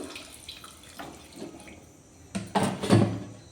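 Water is poured into a jackfruit and potato mixture for kofta curry, with faint scattered splashes building to a few louder close pours and sloshes at the end.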